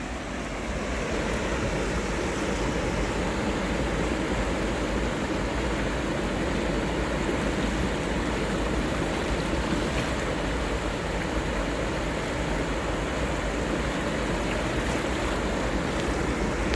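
Water flowing out of Mammoth Spring, the source of the Spring River, a constant broad rushing wash like a weir or cascade, steady and moderately near with no talk.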